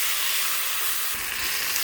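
Meat and spices are sautéed and stirred in a pan for a Bengali kosha, giving a steady, close, loud sizzle with soft scraping and no speech.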